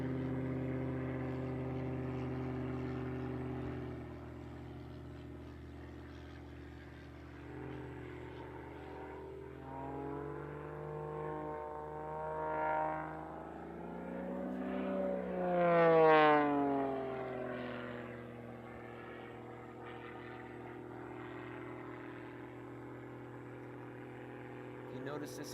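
Propeller aerobatic airplane flying competition figures at the US Nationals, engine drone rising and falling in pitch as it climbs and dives, moderately distant, with a commentator talking over it.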